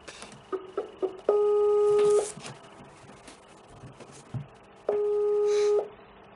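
A phone call rings out on a handset: two long, steady electronic ringback tones about a second each, separated by a pause, with soft tapping and handling noises before the first tone.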